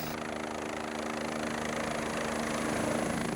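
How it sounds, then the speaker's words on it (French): A rescue helicopter flies in high mountains with gendarmes aboard, its engine and rotor making a steady, loud droning hum with rhythmic low thumping throughout, continuous and close, with no voices. "Finalement, l'hélicoptère a réussi à passer."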